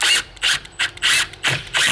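A new Milwaukee hammer drill driving a screw into a corner brace on a wooden garden bed, heard as five or six loud, rapid ratcheting bursts separated by brief pauses.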